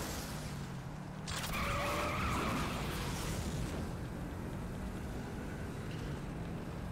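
Car boost in the video game Saints Row: The Third, a sudden loud roaring whoosh over steady engine rumble that swells and then settles into a sustained drone.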